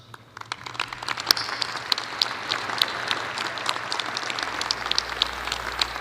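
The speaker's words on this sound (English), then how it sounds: "Let's have all the faculty stand up and give them a round of applause." Sustained applause from a large commencement crowd honoring the university faculty, many hands clapping steadily and fairly loud in a big hall.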